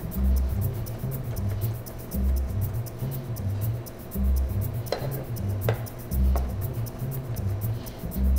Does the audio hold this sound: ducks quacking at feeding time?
no